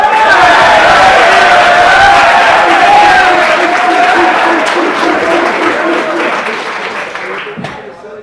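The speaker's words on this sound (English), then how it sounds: "Let's give him a round of applause." A loud round of clapping and some cheering rises from the floor of a party convention assembly as a speaker is welcomed up, with voices mixed in, holding strong before fading out at the close.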